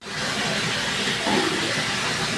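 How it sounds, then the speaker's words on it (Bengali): Lentil dal with egg boiling vigorously in a pot, a steady dense bubbling hiss that runs loud and unbroken throughout, close by with no talk. "ডালটা উতলা নাইছে"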